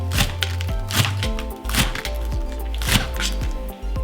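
Knife slicing thin strips through stacked romaine lettuce leaves on a cutting board, a steady run of crisp, close thuds and taps at a quick, slightly uneven rhythm.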